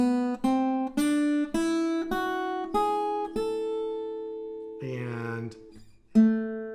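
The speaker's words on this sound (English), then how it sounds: "an A melodic minor scale, which sounds like this" A guitar plays an A melodic minor scale, eight plucked stepwise notes at an even pace, ringing clearly, followed by a brief slide and a final note.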